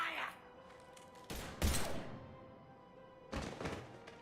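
Weapon fire erupts in a Mass Effect 3 firefight: a few heavy, muffled bursts of shots and thuds separated by quieter gaps. A low steady hum runs underneath, and brief voices come in at the start.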